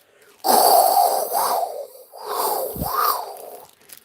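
A person's voice mimics passing traffic with breathy whooshing swells, two or three rising and falling in succession.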